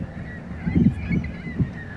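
The Great Lakes freighter Stewart J Cort, powered by four 20-cylinder General Motors diesels, sounds low honking horn blasts in the Duluth Canal, three short deep bursts over a steady background rumble.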